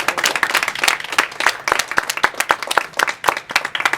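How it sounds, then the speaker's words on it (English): Audience at a community panel event on neighborhood connections applauds the panelists, with dense, steady clapping from many hands and no talk over it. "Can we give our panelists one more round of applause?"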